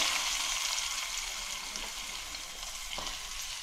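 Onion sizzles in hot oil in a pan for a clam curry, a steady dense hiss without a break, with one faint clink near the end.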